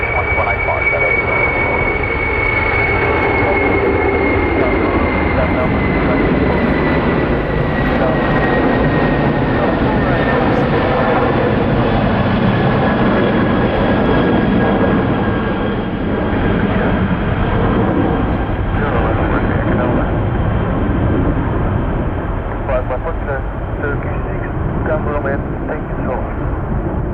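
Virgin Atlantic Boeing 747 jet engines at Manchester Airport give a loud, steady roar with a slowly falling whine running throughout, while air traffic control radio talk sits faintly beneath.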